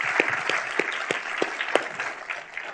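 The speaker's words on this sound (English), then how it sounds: "Everybody, join me in a round of applause for Matt." A small audience applauds Matt with moderate, scattered clapping, a few sharper claps standing out in a loose rhythm, steady and fairly close throughout.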